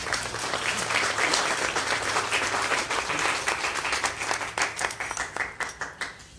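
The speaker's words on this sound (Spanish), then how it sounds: "Les pido un aplauso para él, por favor." Audience at an event on the history of Mexico's railways applauding a staff member, full steady clapping that thins into a few separate claps at the end.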